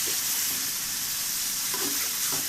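Potato, pointed gourd and soya being stir-fried into a curry, a dense, loud, unbroken sizzle with a few soft spatula stirs surfacing toward the end.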